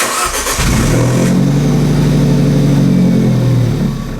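An Alfa Romeo 4C Spider cranks and fires up, then settles into a loud, steady mid-engine drone as the car pulls away and drives on, the engine note holding strong with no talking.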